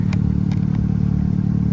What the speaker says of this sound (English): There's your exhaust on the wagon.